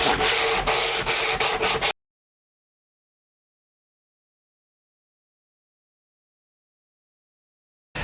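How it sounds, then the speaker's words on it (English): Cured epoxy filler on fiberglass is sanded by hand with 80 grit sandpaper, giving quick rhythmic scratchy strokes for about two seconds. Silence follows. "Once the filler epoxy mixture is cured, I can then sand it relatively easily with 80 grit sandpaper"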